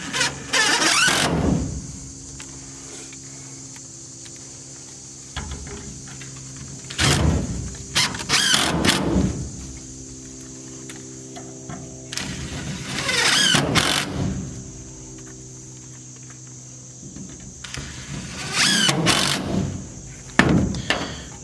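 A power drill drives screws into lumber for a sawmill shelf storage rack, with several separate whirring bursts spaced by quiet pauses, close and fairly loud.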